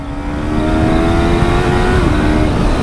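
A Yamaha R3 motorcycle with a quick shifter and PowerTronic ECU accelerates hard, its engine a loud, close, high-revving scream with a steadily rising pitch that holds near the top of the rev range for the whole stretch.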